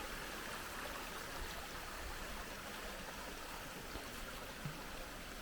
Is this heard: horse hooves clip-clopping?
no